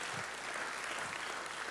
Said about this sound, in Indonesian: Ayo kasih tepuk tangan bagi Allah kita.